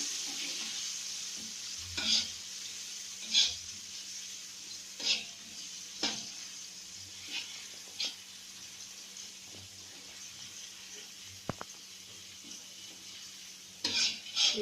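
Sliced shallots fry in oil in a pan for nasi goreng, a steady faint sizzle broken by repeated scraping stirs and the clink of a utensil against the pan.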